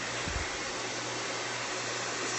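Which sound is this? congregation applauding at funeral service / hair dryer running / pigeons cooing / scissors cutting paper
hair dryer running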